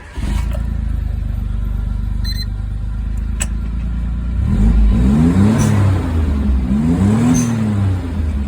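A modified Suzuki Jimny idles with a low, steady rumble close by, then revs several times in rising and falling swells, its engine note loud and throaty.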